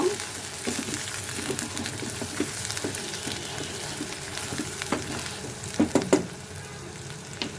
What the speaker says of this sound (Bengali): এটাকে এখন একটু ভালো করে কষিয়ে নিব।